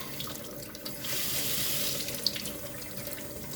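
Hot water runs steadily from a tap into a sink during the wet sanding of a 1:100 scale Concorde model, a continuous close hiss and splash with no talking.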